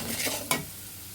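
Spices with turmeric and chili powder sauté in a pan, a close hiss of frying oil with one quick scrape of a stirring spoon partway through.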